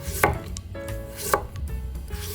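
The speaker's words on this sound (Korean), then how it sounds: "자, 당근도 얇게 편으로 썰어주세요." Knife slicing a carrot thinly for gimbap, two crisp chops about a second apart against a cutting board, close and clear with no talking.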